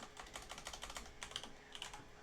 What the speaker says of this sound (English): my hand slapped the keyboard